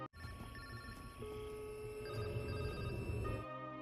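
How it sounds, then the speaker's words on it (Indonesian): Mobile phone ringing in a forest, a faint, steady electronic ring tone sustained with a constant pitch over low background rumble, heard alone without voices until it stops. "Dia juga mendengar ponsel yang dicari berbunyi yang entah dari mana asalnya"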